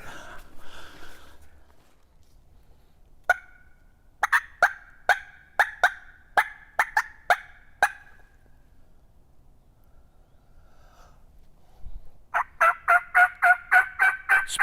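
Wild turkeys gobble in answer to a call on a spring morning, sharp rattling gobbles coming in quick repeated bursts at moderate distance, with quiet stretches between and a final louder volley of gobbling.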